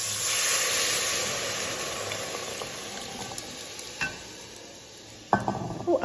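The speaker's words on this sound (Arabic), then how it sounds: "بعد ما حمس البهار راح أضيف عليه العدس." Lentils being stirred into toasted spices in a pot, a steady sizzling hiss throughout with a few sharp scrapes and clinks of the spoon near the end, close and without voices.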